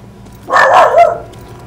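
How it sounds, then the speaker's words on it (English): A pet dog gives one close, clear bark, a drawn-out woof-like call rising over a faint low hum in the room. "Forget my dog barking."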